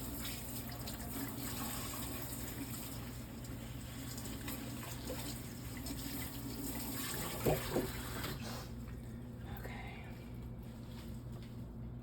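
Steady spray of water from a sprayer rinsing a crested gecko enclosure, a continuous hiss that stops near the end, with a couple of faint knocks just before it ends.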